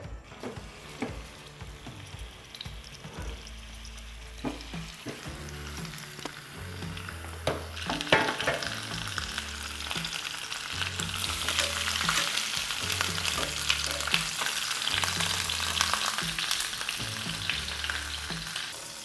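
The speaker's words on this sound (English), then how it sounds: "let's throw in some more oil into our pan and just give our lamb shanks a light golden" Lamb shanks searing in oil in a pan, with a continuous sizzle that grows louder and brighter midway, plus occasional knocks and clanks of the meat and pan.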